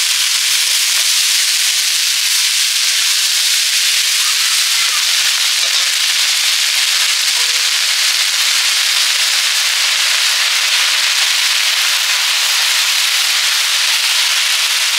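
Leafy greens, a mix of seven kinds of saag with a little potato and taro, hit a hot pan and sizzle loudly with a dense, steady, hissing crackle for the whole stretch.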